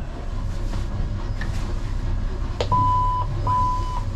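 The electronics on a 2023 Stabicraft 2250 centre-console boat with an F300 outboard give two clear, steady electronic beeps in quick succession as they power on, preceded by faint clicks and low background hum.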